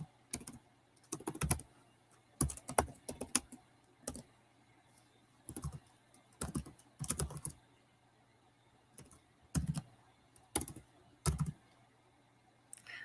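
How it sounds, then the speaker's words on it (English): Fingers type a message on a computer keyboard in quick clusters of close, crisp key clicks separated by short silent pauses, with no talking. "I'm just going to type it out"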